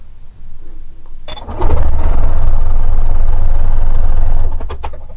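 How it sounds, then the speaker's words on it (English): A sewing machine stitching quilt squares into half-square triangles, whirring up quickly into a loud, steady, close run for about three seconds before slowing and stopping with a few clicks. "So we've sewn on one side of the line, now we're going to sew on the other."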